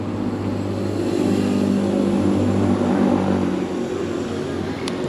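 A FIMI Manta VTOL drone flies nearby, a steady droning buzz of motors and propellers that holds constant throughout, with no talk.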